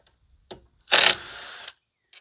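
A ratchet wrench removing bolts from a Brute 22 self-propelled mower with a 190cc engine: a few faint clicks, then one loud, close, rapid ratcheting burst lasting nearly a second.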